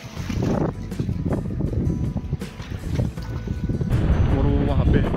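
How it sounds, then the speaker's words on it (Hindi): Strong wind buffets the microphone on a seaside stretch in Jaffna, Sri Lanka, a constant loud low rumble with gusts that swell toward the end, while someone talks underneath it. "यहाँ पर हवा बहुत तेज चल रही है"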